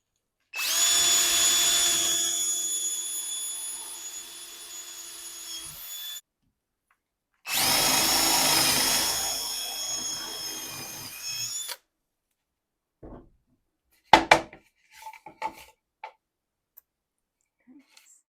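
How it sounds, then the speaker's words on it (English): A power drill with a 1/2 inch wood bit bores drainage holes in a wooden planter in two long, high-pitched whining runs, followed by scattered knocks and clatter as pieces are handled. "drill a few holes in for drainage. I'm using a 1/2 inch wood bit."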